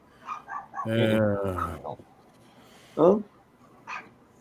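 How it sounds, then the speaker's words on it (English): Chihuahuas yap in a quick run of high barks, then give a couple more isolated yips after a pause, fairly close. "I hear chihuahuas barking."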